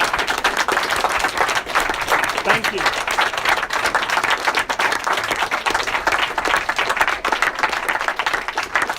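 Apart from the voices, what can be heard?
audience applause at end of debate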